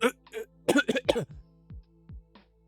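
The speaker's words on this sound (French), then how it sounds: "C'est juste de la toux." Someone in a Nollywood drama scene clears their throat and coughs in a short, harsh burst of rough hacks, close and loud, followed by a few fainter throat sounds.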